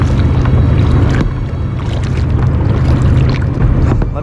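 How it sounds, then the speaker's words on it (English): A kayak paddles upstream on the Columbia River where there is no current, heard as a loud, steady rush of wind and water noise, with no talking. "This is real easy paddling."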